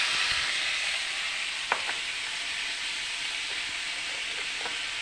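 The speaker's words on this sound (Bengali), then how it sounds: "ভেজে নেবো ভালো করে।" Taro flowers frying in a pan with salt and turmeric give a steady, even hiss of sizzling oil, with a couple of faint scrapes of stirring partway through.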